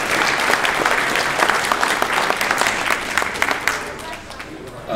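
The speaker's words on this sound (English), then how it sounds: "So give them a round of applause." An audience at an induction day event in Ottumwa bursts into a loud, sustained round of applause, dense clapping that holds steady and then tapers near the end.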